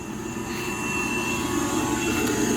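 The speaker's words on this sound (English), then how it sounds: "blower is running 30 lines." An air blower feeding thirty aeration lines across outdoor 750-gallon growout tanks runs with a steady, even roar and faint hum, constant and unbroken throughout with no voices.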